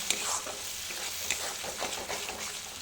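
Masala being stir-fried over low gas during a home cook's night-time cooking, a soft steady sizzle with scraping spatula strokes and a couple of sharp clinks near the start and middle.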